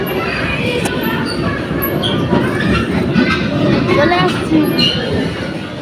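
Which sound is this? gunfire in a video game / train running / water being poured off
train running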